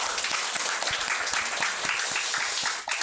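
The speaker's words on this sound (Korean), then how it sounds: "박수 한번 해주세요." A church congregation at a Sunday service applauds, with dense, steady clapping from many hands filling the hall for about three seconds before it starts to thin out.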